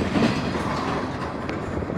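A Norfolk Southern freight train rolling past nearby, a steady rumbling roar with rhythmic clacking of wheels over the rails and no pause.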